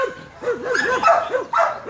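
A Belgian Malinois police dog barks and whimpers close by in a series of short, pitched yelps and barks, loud and without talk.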